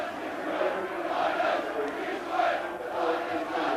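Big stadium crowd at a rugby league cup match between Leeds and Castleford, a broad, continuous murmur with swelling cheers and shouts from many distant voices.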